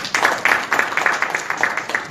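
Audience applause at an ICT industry forum as a speaker is introduced, a steady, loud burst of many hands clapping in a quick, even rhythm throughout.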